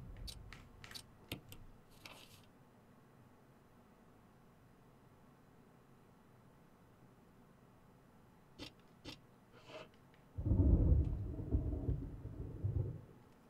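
Thunder rumbles in the video game Resident Evil, a few sharp distant cracks early on, then a loud rolling boom swelling near the end over a quiet ambient backdrop.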